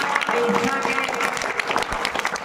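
Loud, dense applause from a school audience at a 2 October Gandhi Jayanti event, continuous clapping filling the whole moment close by.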